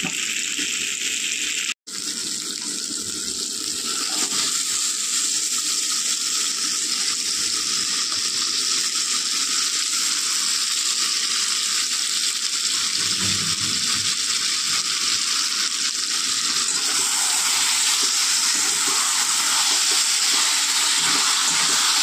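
Mutton pieces frying in oil in a pan for a Bengali-style curry, a steady, close hiss and sizzle that holds evenly throughout after a brief clatter near the start, with no talking.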